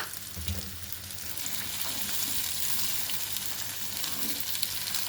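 Black-eyed peas fry in a pan for a curry, a loud, continuous, close sizzle that holds steady throughout with faint stirring beneath it.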